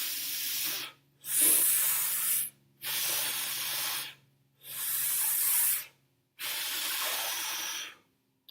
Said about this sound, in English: you would purse your lips when you're exhaling out air